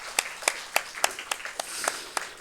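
A church congregation clapping during a Sunday morning worship service, with about nine distinct, evenly spaced claps in a steady rhythmic beat, fairly close and clear.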